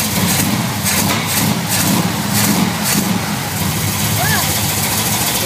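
A Chevrolet Chevelle SS engine runs after sitting for months, giving a deep rumbling idle with a few uneven surges, heard close with some background noise.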